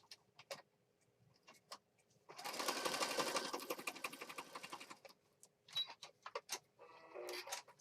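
A sewing machine runs a zigzag stitch through a junk journal page for about three seconds, a dense, steady whirring burst preceded and followed by quieter scattered clicks and handling taps.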